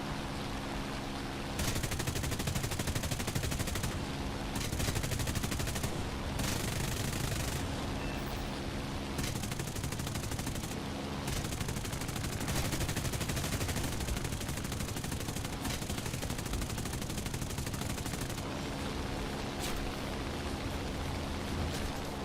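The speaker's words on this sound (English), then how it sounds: "Jammed up the machine gun and used all the rest of my cannon rounds." Rapid, continuous machine gun and cannon fire from a Saab T18B-1 medium bomber in War Thunder, loud bursts with brief pauses.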